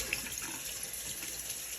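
Tap water streams steadily into a kitchen sink as cucumbers for bread and butter pickles are rinsed. The flow is close, continuous and even, with no voices.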